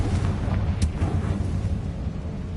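A Confringo fire spell blast in Hogwarts Legacy, heard as a deep rumbling explosion with a sharp crack partway through, sustained low roar throughout.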